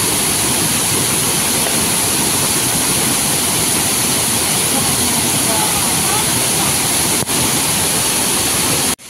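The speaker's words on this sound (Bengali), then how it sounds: "এখান থেকে নিচের ভিউটা দেখো, এখান থেকে প্রচুর জল আসছে।" Water rushes down near the Panchalingeshwar temple in a loud, dense, unbroken roar like a cascade, filling the whole scene up close before cutting off abruptly at the end.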